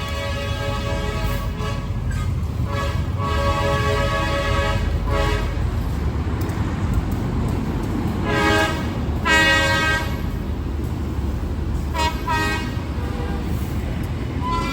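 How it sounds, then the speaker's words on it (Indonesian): A train rumbles past close by near the Universitas Negeri Padang station in Padang, sounding several toots of its horn over the steady roar of the passing cars. "Mungkin sahabat Gumilang mau lihat kereta api di daerah Universitas Negeri Padang."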